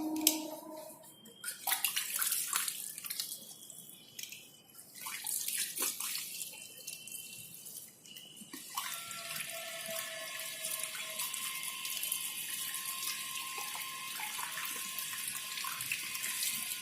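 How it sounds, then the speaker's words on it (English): Tap water runs into a sink while test tubes are rinsed, a steady hiss with changing splashes as glassware is moved under the stream, continuing loud and close throughout. "So first I will wash all the test tubes so that I can reuse these test tubes again."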